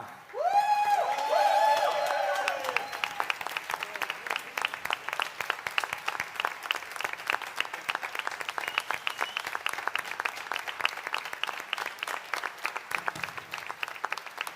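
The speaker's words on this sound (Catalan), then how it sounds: "Un fort aplaudiment a l'orquestra del Conservatori de Tarragona." Audience applauding the Tarragona Conservatory orchestra at a Sant Joan night musical show: after a brief sustained musical tone, a dense, lively ovation of many clapping hands with some cheering fills the rest, steady and fairly loud.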